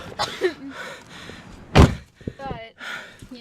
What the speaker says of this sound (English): Oh, the wind's blowing, the door closed.